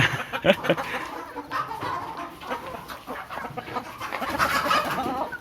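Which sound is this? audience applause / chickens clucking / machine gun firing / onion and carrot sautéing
chickens clucking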